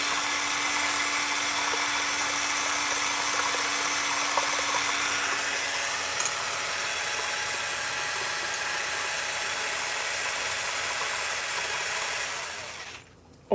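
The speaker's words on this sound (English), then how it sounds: "Here's how we mix eggs if you haven't been here before." A handheld power mixer whirs steadily through beaten eggs for over ten seconds, a close, even buzz that slows slightly before cutting off abruptly at the end, with no talking.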